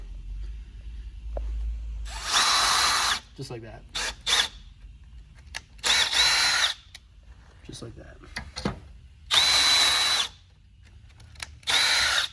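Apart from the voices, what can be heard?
power drill drilling through ski for bindings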